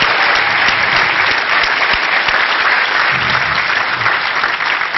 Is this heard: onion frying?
no